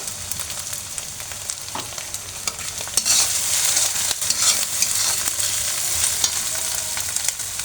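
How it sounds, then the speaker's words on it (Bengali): Steady frying hiss from carrots and tomato in a hot pan, with scattered scraping clicks of a spatula stirring throughout; it grows slightly louder partway through. "গাজরটা ভাজা হয়ে গেছে টমেটোটা পরে দিলাম"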